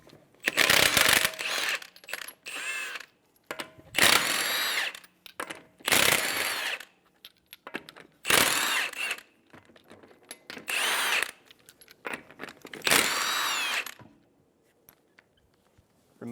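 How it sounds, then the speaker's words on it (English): A power tool with a 21mm socket spins lug nuts off the front wheel of a 2007-2011 Toyota Camry, about seven loud whirring bursts of a second or so each, separated by short pauses. "Using a 21mm socket, remove the lug nuts."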